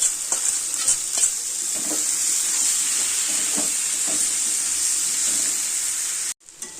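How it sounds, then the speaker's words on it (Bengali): Loud continuous sizzling as spices and jackfruit stir-fry in hot oil, with scraping stirring strokes, ending abruptly. "মশলাগুলো দিয়ে আবার ভালো করে এগুলো কষাতে হবে"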